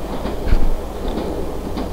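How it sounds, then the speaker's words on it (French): The Cévenol Marseille–Clermont passenger train runs on the line approaching Villefort station, with a steady low rumble of wheels and a few faint rhythmic clicks heard from aboard. "Le Cévenol Marseille-Clermont va entrer en gare prochainement en gare de Villefort."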